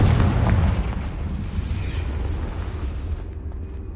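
A Confringo blasting spell goes off in Hogwarts Legacy: a loud, rumbling explosion that booms at first and slowly fades into a low roar, with no voices.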